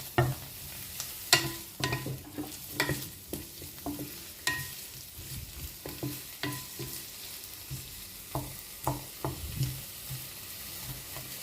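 Onions and garlic stir-fry in a pan, a soft sizzle broken by repeated clacks and scrapes of a utensil at an uneven rhythm, with no talking.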